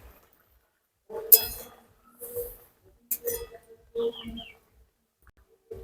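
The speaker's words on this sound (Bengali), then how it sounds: "আমি চাপাটা খুলে নেব, চেক করে দেখে নেবো আলু গলেছে কিনা।" A lid comes off a pot of boiling potatoes in a home kitchen, making a few short metallic clinks and scrapes that are near and fairly clear over a quiet background.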